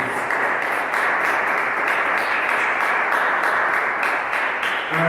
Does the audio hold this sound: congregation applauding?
yes